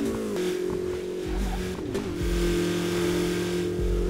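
A car engine in Burnout Paradise Remastered holds a steady, close revving drone, its pitch dipping and climbing again as the driver works the throttle, with no speech.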